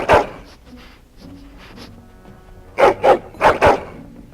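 A dog in the Dragon Age: Origins video game, a hound at Castle Cousland, barks several times, first a single bark, then two pairs of sharp loud barks after a quieter stretch of faint game ambience.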